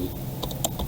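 Keys tapped on a computer keyboard while typing in MS Word 2019, a few quick soft clicks close by over faint room hiss.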